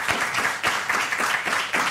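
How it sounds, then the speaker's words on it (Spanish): Audience applause at a talk on oil in the Canary Islands, a steady burst of many hands clapping together, fairly close and continuous for about two seconds. "les pido por favor un aplauso para don Miguel Anxo."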